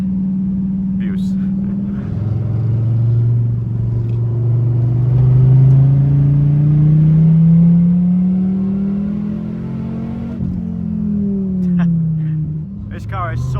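A Dodge Viper ACR is driven hard on a track, its engine loud and close as the note climbs and falls through gear changes and revs.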